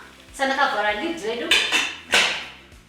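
A metal lid set onto a cooking pot of lamb, giving a few close clanks and rattles in about three seconds, loudest near the start and again toward the end.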